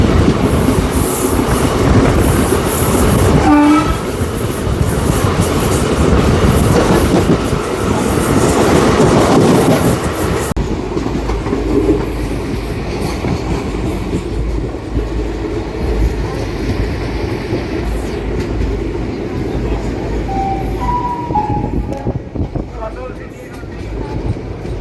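The Tungabhadra Express rolls along the rails near Alampur Road station, a loud continuous rumble with clickety-clack of the wheels and brief metallic squeals, the train noise filling the whole stretch while it slightly quietens partway.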